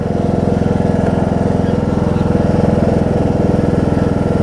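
A John Deere D105 riding mower's small single engine runs close up, a steady, rapid loud putter with an even pulsing beat throughout.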